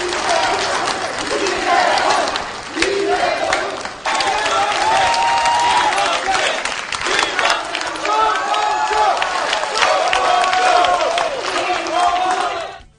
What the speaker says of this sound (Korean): 각 후보 지지자들은 손뼉을 치며 경쟁적으로 후보들의 이름을 외쳤습니다